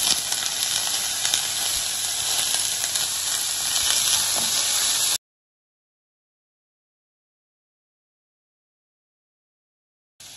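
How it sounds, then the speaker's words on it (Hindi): Broccoli, mushrooms, peas and corn stir-frying in a pan give a steady, close hissing sizzle for about five seconds, then the sound cuts out abruptly to silence before a brief return at the very end. "ये सारी स्टर फ्राई हो रही हैं वेजी हमारी।"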